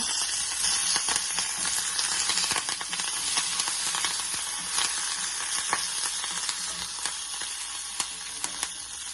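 Dried red chilies and curry leaves fry in hot oil for a spinach (cheera) curry, a close, steady sizzle full of crackles and sharp pops that runs throughout, with no talk.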